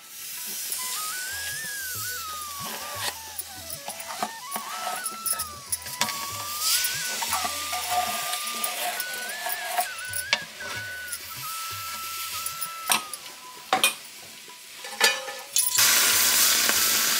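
A steady hiss of jaggery and water simmering in a pan, with occasional scrapes and knocks of a spoon stirring, close up.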